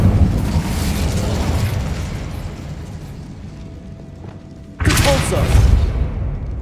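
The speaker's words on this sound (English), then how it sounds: "Incendio!" Incendio fire spell cast in Hogwarts Legacy: a sudden loud whooshing burst of flame near the end, following a rumbling low roar of background action, with a voice over the soundscape.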